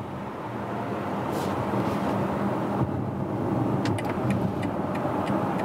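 A BMW X3 xDrive 30e plug-in hybrid accelerating from 40 to 80 km/h in all-electric mode, heard from inside as a steady, rising road and tyre rush with wind noise and no engine note.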